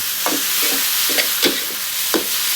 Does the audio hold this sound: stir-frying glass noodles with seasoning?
yes